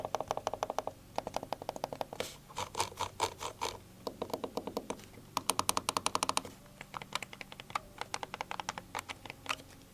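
Quiet, muted clicks from a Tmice TKM01A silent-click mouse, tapped in rapid irregular bursts close by, soft and dull with little ring, pausing briefly between clusters.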